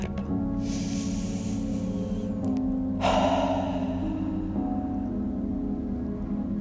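Strong, deep exhales during a guided meditation, several long breathy rushes of air pushed out over a steady, sustained music bed, close and fairly prominent.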